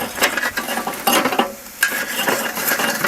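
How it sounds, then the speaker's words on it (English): A metal spoon scrapes and rakes loose charcoal at the bottom of a BBQ grill while beef sliders cook, giving close, irregular clinking scrapes in short bursts with no talking. "I'm going to take this spoon and I'm going to move the bottom a little bit"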